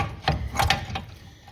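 A few sharp ratcheting clicks and metallic rattles come up close as a socket tool works the brake caliper bolts loose on an older car.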